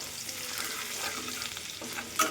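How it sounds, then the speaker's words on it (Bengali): Onion and five-spice seeds frying in oil, a steady sizzle with faint scraping of a spoon and a sharp clink at the end, no speech. "তেলের মধ্যে আমি 5 ফোড়ন দিয়ে দিলাম, অল্প একটু পেঁয়াজ দিয়ে দিলাম"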